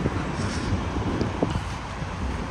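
Strong wind blows outdoors near a main highway, making a steady, rough rumble that buffets the microphone throughout, with no talking.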